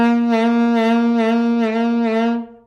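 A sustained saxophone tone with an overly wide vibrato from too much jaw movement, swelling and dipping about five times in a steady, wobbly pulse, close and loud, fading at the end.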